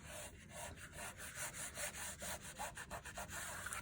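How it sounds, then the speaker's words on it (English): Rubbing down a mixed media journal cover along its cracking spine, a rhythmic scraping with repeated strokes that rise and fall at close range, and no talk. "And just rub it down."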